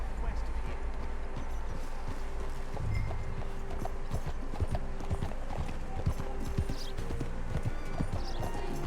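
Steady clip-clop of horse hooves walking in Red Dead Redemption 2, a continuous rhythmic series of thuds running through the whole stretch with game ambience beneath and someone speaking over it.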